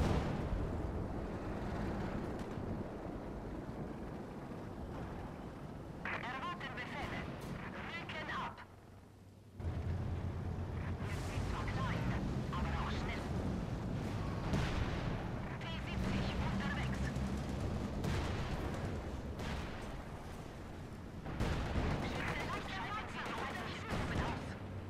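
Mortar and gunfire from the video game Company of Heroes 2, with repeated booming detonations and crackling shots forming a dense, continuous battle din, broken by a brief lull, while someone talks over it.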